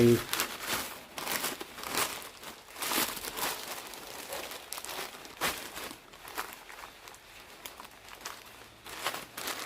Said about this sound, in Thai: เราใช้ถุงพลาสติก